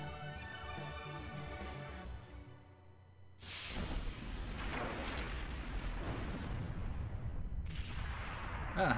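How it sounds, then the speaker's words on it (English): A video game explosion in Skies of Arcadia Legends at the close of a battle: music plays, then breaks into a sudden loud blast with a long rumbling roar and a second burst near the end. "And it has to explode, of course"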